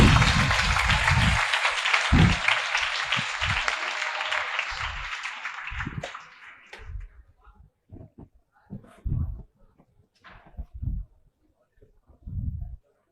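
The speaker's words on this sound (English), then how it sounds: "Clap for her." A classroom audience claps for a student, a loud dense round of applause for about six seconds that fades out, followed by quieter talk and low thumps.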